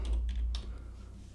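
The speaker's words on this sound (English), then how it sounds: "Press 1 on keyboard and click empty space" A few quiet computer keyboard clicks and taps, faint and brief, with a low hum underneath.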